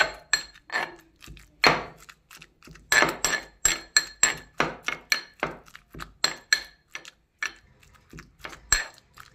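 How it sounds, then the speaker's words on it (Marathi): Roasted eggplant being finely crushed by hand in a dish for a spicy bharit, a long series of close, sharp knocking and clinking strikes in an uneven, steady rhythm with no talking. "बारीक असं ठेचून घ्यायचे वांगे"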